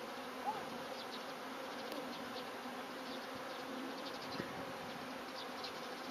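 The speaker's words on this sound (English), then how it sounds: "Bees like dark places, so you can see that they're all kind of going back to the place where they were." Honeybees being moved into a Tanzanian top bar hive give a steady, fairly faint swarm buzz that hums on without pause, with an occasional louder bee passing close.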